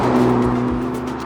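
A Honda Civic Type R FL5 hot hatch drives on a road, its engine a steady close hum with a sustained drone, no talk.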